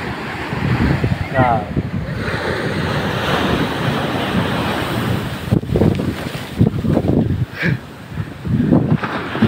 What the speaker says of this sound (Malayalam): ശാന്തമായ കടൽ, നല്ല ശാന്തം